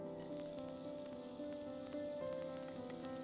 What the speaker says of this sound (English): We'll saute the onions till they become translucent.